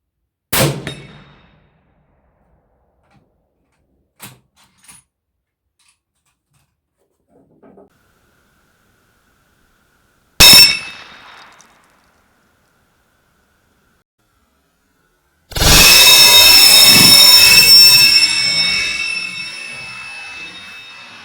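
A .338 Lapua 280-grain LRX bullet strikes a half-inch-thick AR500 steel plate at 100 yards, giving sharp, loud metallic clangs followed by a long, bright ringing hiss.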